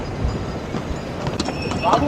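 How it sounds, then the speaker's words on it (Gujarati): Horses walk along the mountain footpath of the Yamunotri trek, hooves clopping irregularly in the near distance under steady outdoor ambience and a speaking voice. "એવી રીતના આવા ઘોડા જતા હોય છે"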